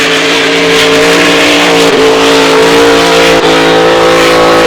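A 6-litre racing boat engine roars loud and close at a Windsor racing event, revving steadily with brief dips in throttle around the middle, continuous and dominant throughout.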